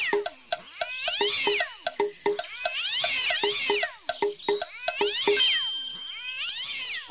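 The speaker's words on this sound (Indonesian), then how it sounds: "Kucing atau cat?" A cat meows repeatedly, several drawn-out rising and falling cries over a soft rhythmic clicking background, fairly close.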